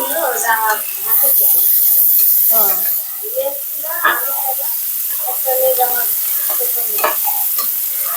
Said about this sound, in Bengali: এদিকে আমি ভাজি করতেছি